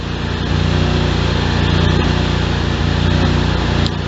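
A Cub Cadet 3165 lawn tractor engine runs loud and close, its throbbing idle swelling and dipping unevenly as it surges, with a brief catch near the end and no speech.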